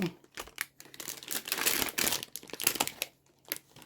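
Foil wrapper of a Gundam GD-01 Newtype Rising trading card booster pack being torn open and crinkled by hand, a close, continuous rustling and crackling that swells in the middle and tapers off.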